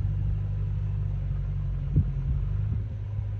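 JCB excavators at work on road construction in Spiti, heard as a steady, low diesel rumble and hum from machinery at a moderate distance, with one brief dull thump midway and no voices.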